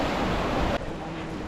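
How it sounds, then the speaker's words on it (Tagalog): Waves crash and wash in a dense, continuous roar of surf, loud and close, with a sudden drop in intensity partway through as the surge recedes. "Hampas ng alon."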